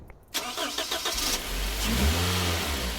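A Toyota Hiace 2000cc VVT-i engine cranks with a rapid series of starter whirs, then catches and settles into a loud, steady idle with a deep rumble, close by.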